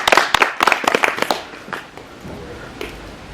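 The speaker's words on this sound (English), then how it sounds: "Please let us begin by giving them a huge round of applause." Wedding guests clap for a newly married couple at a ceremony: a brief burst of scattered, fairly close hand claps that quickly thins out and fades into quiet room tone.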